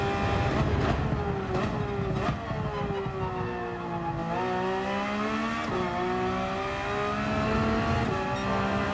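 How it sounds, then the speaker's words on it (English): A Porsche 911 race car in Gran Turismo 7 on the Nürburgring GP circuit, its engine loud and close as it climbs steadily through the revs, drops briefly on gear changes and climbs again, with no talking. "This is the Porsche 911."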